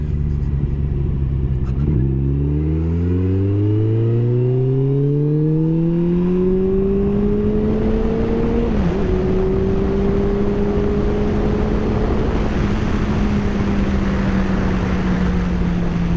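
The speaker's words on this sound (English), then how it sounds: "The old pipe's barking at me here." A Kawasaki Concours 14 motorcycle's exhaust drones loudly and continuously while riding, its engine note climbing steadily through the gears with a brief shift dip, over heavy rushing wind noise and no talk.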